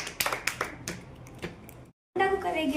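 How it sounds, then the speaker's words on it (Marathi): Schoolchildren in a village school classroom clap for a classmate who won a game, a burst of scattered claps that breaks off briefly, then talk resumes. "टाळ्या वाजवा ओमसाठी सगळ्यांनी"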